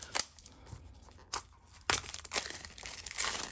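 Scissors snip and tear through plastic wrapping up close, with crinkling and rustling of the plastic between a few sharp cutting bursts.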